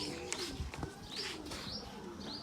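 Pigeons coo softly and fairly close by, mixed with a few brief chirps against a quiet outdoor background.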